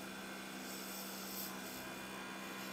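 A serpent scale resin pen blank spinning on a lathe under a cutting tool gives a steady, even whirring hiss with a soft scraping texture, moderately quiet and without talk.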